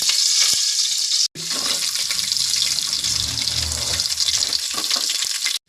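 Almonds, cashews and raisins frying in ghee in a kadai give off a steady, bright hiss and sizzle, briefly cut off once, with low bubbling crackles underneath.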